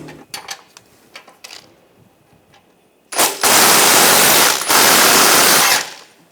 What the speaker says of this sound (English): We're going to take these nuts off, use a 13mm socket.